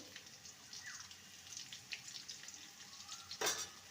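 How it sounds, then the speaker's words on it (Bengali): Fried potatoes sizzle softly in a pan as turmeric powder is added, a faint steady frying hiss with light scraping and stirring, ending in a brief louder clatter. "আলুটাকে দেখতেই পাচ্ছেন লাল করে ভেজে নিয়েছি এবারে দিয়ে দেবো হলুদ গুঁড়ো"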